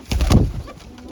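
A single throaty coo from a nearby Peeplan wale breed pigeon, a hen bird. The call is short and clear, fading out within a second, with no talking.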